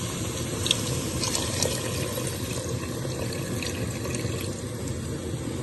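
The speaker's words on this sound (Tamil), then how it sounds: "இப்போ நம்ம அந்த தண்ணியெல்லாம் விட போகிறோம்." Steady rush of water pouring into a cooking pot for mushroom biryani, continuous and fairly close, with no voices.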